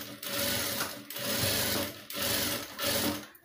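A sewing machine stitches the neck of a blouse, running in four short rhythmic bursts of steady whirring, each separated by a brief pause, close and clear.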